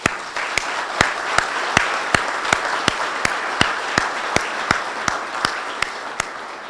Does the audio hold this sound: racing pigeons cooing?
no